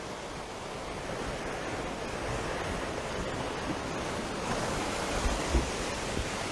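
Ocean surf on a calm morning at Accra beach, a continuous broad wash of waves rolling in close by with no talk over it.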